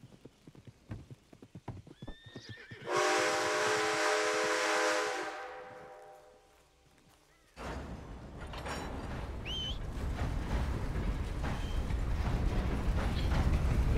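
In Red Dead Redemption 2, hooves clip-clop along, then a loud steam whistle blows for a few seconds, followed by the rumbling, chugging rush of a moving train.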